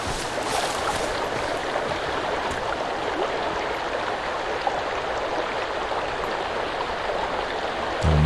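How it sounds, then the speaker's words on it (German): A waterfall in the video game Sons of the Forest rushes in a continuous, loud, broadband roar that stays steady for several seconds, with no talk over it. "Oh, hier ist wieder ein Wasserfall."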